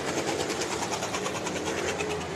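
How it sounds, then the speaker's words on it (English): A loud race car engine drones with a rapid, uneven pulsing rhythm, misfiring with engine problems during a figure 8 race. "it sounds like engine problems"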